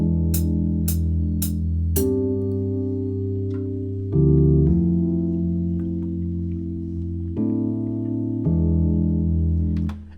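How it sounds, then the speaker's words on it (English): A chord progression plays back cleanly during music production, five or so sustained chords changing every two seconds or so, the first few struck with sharp percussive attacks, loud and alone. "So I have these chord progressions and they sound like this."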